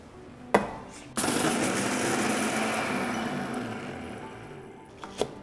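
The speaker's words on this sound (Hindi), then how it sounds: "इसे डाला मिक्सर ग्राइंडर में और इसे ड्राई ग्राइंड करके पाउडर करेंगे।" Mixer grinder dry-grinding crushed Maggi noodle crumbs into powder, a loud steady whirring roar that starts abruptly and runs for about four seconds before cutting off, with short clicks at either end.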